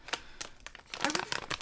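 Thin plastic bag packaging from an online clothing order being ripped open by hand, a run of close crinkling and tearing bursts that grow busier and louder toward the end.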